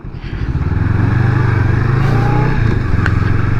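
Honda CMX500 Rebel cruiser motorcycle engine idling close by with a loud, steady low rumble that swells slightly as it settles, its even throb continuing to the end.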